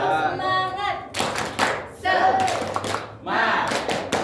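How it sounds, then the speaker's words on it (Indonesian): Classroom students clapping a rhythmic spirit chant in bursts of sharp hand claps with voices chanting along, interspersed with a teacher's speech between rounds. "Kita yel tepuk semangat ya."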